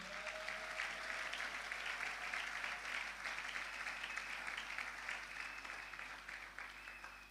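A church congregation at a Sunday service claps steadily and warmly throughout, a dense continuous applause heard from within the room.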